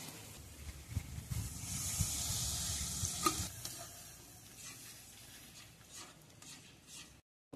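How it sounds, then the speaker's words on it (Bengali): Water poured into a sizzling pan of fried spiced masala for masala paneer gives a loud, steady steamy hiss that peaks early, then fades under soft stirring and scraping. "এবার একটু জল দিয়ে দেব।"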